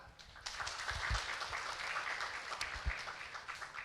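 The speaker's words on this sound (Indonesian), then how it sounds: "Sekali lagi tepuk tangan buat para pembicara." An audience at a university energy talk on fuel restrictions gives the speakers a round of applause, a moderate, fairly brief patter of clapping from a modest group, heard close and without speech.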